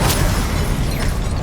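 The Confringo spell in Hogwarts Legacy goes off as an explosive blast: a single booming burst at the start, followed by a rumbling, crackling wash of noise that carries on under dense game sound effects.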